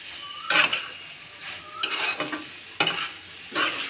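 Spices and tomatoes stirred and fried in a pan for a Bengali rosha curry: a few close bursts of sizzling and a spoon scraping the pan, with quieter gaps between them.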